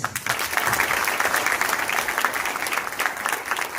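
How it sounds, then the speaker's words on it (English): An audience at a legal services authority event applauds to welcome dignitaries, with steady, dense clapping from a crowd heard throughout. "I request all of you to welcome the dignitaries on and off the dais with a big round of applause"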